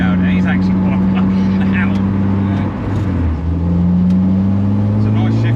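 A turbocharged K24-swapped Ford Fiesta engine drones loud and close in a steady, buzzing idle that swells and dips with gentle revs, while people talk over it.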